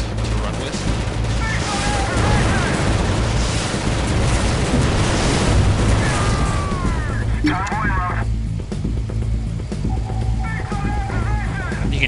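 Dense battle noise from the mobile strategy game League of War on iPhone/iPad, with continuous troop gunfire and rumbling explosions throughout, plus brief whistling effects, all under a voice talking over the action.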